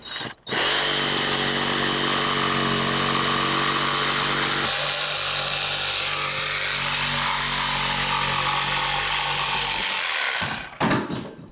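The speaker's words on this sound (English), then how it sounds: "when you're cutting through your plywood, make sure that you do not cut into your rafters" A jigsaw cuts through plywood roof decking for a power attic vent roof mount, its loud steady buzzing whine running unbroken for about ten seconds before stopping.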